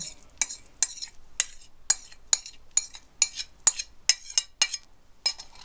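A spoon stirs a garlic and carrot spread in a bowl, making a series of about fourteen crisp scraping clicks in an uneven, quickening rhythm, close and fairly quiet.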